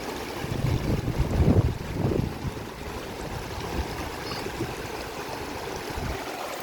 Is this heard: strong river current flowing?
yes